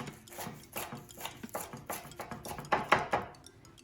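A utensil scraping and cutting through Rice Krispy treats in a pan, a series of short rasping strokes with light clinks against the pan, close and quiet, the last few strokes louder.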